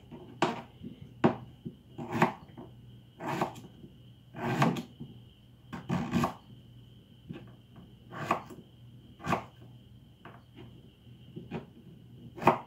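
Repeated knife strikes chopping beetroot and carrots on a cutting board, irregular thuds and chops spaced about a second apart, close and moderately loud in a quiet room.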